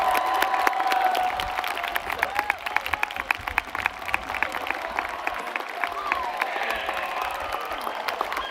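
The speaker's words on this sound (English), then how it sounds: "Please join me in applauding these students for this prestigious honor." Steady, sustained applause from a large audience at a high school graduation ceremony for the class of 2023, with dense clapping throughout and some crowd cheering and voices mixed in.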